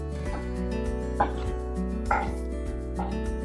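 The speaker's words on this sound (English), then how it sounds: "I will first cut the parsnip and the carrots. I will now cross chop it as best as I can." A knife chops parsnip and carrots on a board, giving three sharp, well-spaced chops over a steady tonal background hum.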